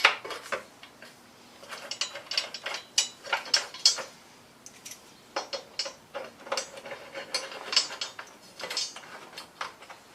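A hand ratchet tightens bolts on motorbike parts in a garage, giving repeated bursts of sharp, close clicking in uneven runs with brief pauses between them.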